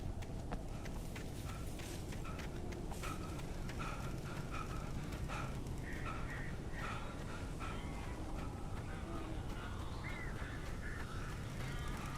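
Crows caw repeatedly in the video game Alan Wake Remastered, harsh calls scattered through a dense, steady ambient wash of outdoor noise, fairly distant and with no speech.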